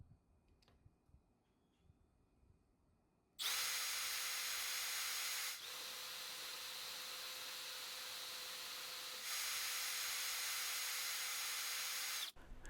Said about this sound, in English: spin the pulley on the transmission to check